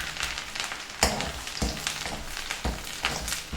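Garlic sizzles and crackles in hot oil, a steady frying hiss broken by a few louder bursts as it is stirred.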